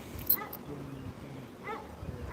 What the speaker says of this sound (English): Dog going a bit mad